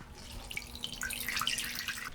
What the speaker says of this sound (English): Now as soon as we plug everything in, the pumps will start running.